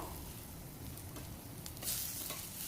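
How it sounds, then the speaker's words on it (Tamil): Soft, steady sizzling of onions and tomatoes frying in a pan, a faint continuous crackle with occasional small pops. "வெங்காயம் தக்காளி நல்லா வதங்கினதுக்கு அப்புறமா"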